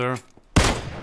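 Gunshot from a sniper rifle in the video game PUBG, landing a headshot: one sharp loud crack with a short decaying tail, after a brief voice.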